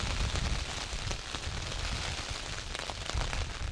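Steady rain patters over open heather moorland in mist, a continuous dense hiss with scattered drops and no voices.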